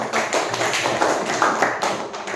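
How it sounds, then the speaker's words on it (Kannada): Classroom applause from a group of students, a steady patter of many hands clapping at moderate volume for a couple of seconds, no talk over it. "ವೆರಿ ಗುಡ್, ಚಪ್ಪಾಳೆ"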